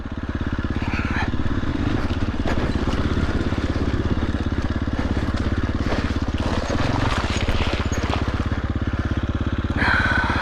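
A motorcycle engine runs steadily and loudly throughout, with a continuous low rumble while the rider lets the back wheel slide on a mountain pass ride.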